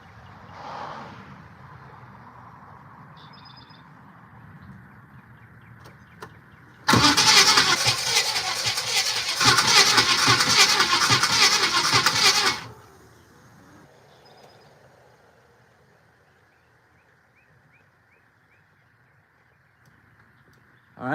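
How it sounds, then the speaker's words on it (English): A Buick Regal engine cranks during a compression test, one loud sustained stretch of starter churning lasting several seconds, with quieter idle-level noise before and after. "let's crank her"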